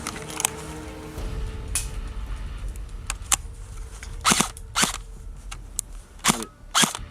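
An airsoft gun fires BBs outdoors at a winter milsim event, giving crisp snapping shots, some single and some in quick pairs, with people chatting quietly in the background.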